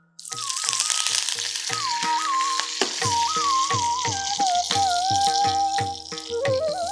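Curry leaves sizzle and crackle steadily in hot oil in a pan, with quick popping bursts and a sputtering hiss continuing throughout, close and fairly loud.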